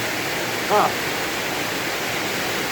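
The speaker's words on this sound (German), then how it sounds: "Das ist eine Wand aus Wasser, die hier runterkommt. Ist auch so laut, man kann sich das gar nicht vorstellen." A very heavy monsoon downpour in Laos roars as an unbroken wall of water noise, loud and steady throughout, with a brief short voice sound rising above it near the start.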